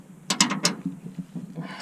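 A wrench tightens bolts on a harvester at the end of a faba bean harvest, making a quick run of sharp, close ratcheting clicks followed by softer metallic scraping and a brief hiss.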